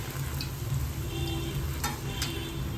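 Bhature dough frying in hot oil, a constant close crackling sizzle with a couple of sharp pops, steady and moderately loud, no voices.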